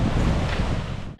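Strong wind buffets the microphone in a loud, rumbling roar, with a brief lull right at the end.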